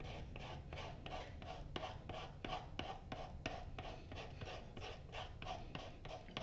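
Leather gets roughed up before gluing with rapid rhythmic rasping strokes, a scratchy scuffing repeated at an even pace. Every stroke sounds close and quiet against low background hum.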